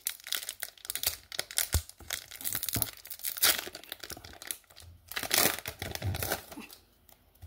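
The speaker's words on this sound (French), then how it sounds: "on va ouvrir pour voir ce qu'on va avoir dans ce booster" A Pokémon card booster pack wrapper being torn open and handled, giving close, crisp crinkling and tearing in irregular bursts with a few louder rips, no talking.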